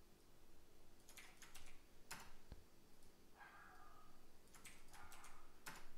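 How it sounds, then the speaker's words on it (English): Someone types in quick bursts on a computer keyboard, with soft, close clicking and short pauses between the runs of keystrokes and nobody talking. "I'll just type these in."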